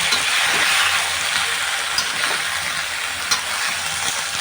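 Bean sprouts stir-fried in a hot pan, a continuous bright sizzle with occasional scraping stirs, close and steady with no talking.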